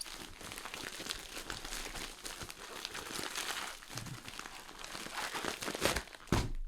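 Plastic packaging crinkles and tears while a package of generic fractional silver coins and rounds is cut and pulled open, a steady close rustle that ends in a sharper rip.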